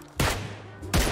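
Two loud gunshots crack out about three quarters of a second apart in the video game PUBG, each with a short booming tail, close and prominent.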